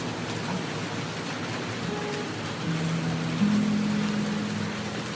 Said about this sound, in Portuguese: Presta atenção no som da chuva caindo, correlacionado com essas peças de violão